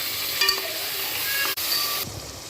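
Cut tomatoes for mutton biryani hiss and sizzle in a hot pan, a soft steady frying crackle with a few faint clinks and a brief dip near the middle.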